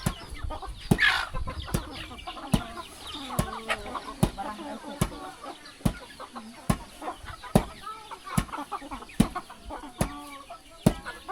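Chickens cluck and peck at feed in a rural yard in the Lao countryside, with sharp regular pecking taps and soft close clucks continuing throughout; a brief faint voice is heard early on.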